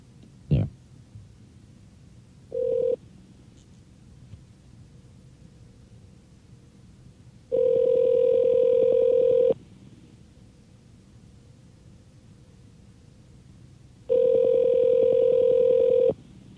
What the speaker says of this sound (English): The old famous KSJO phone system.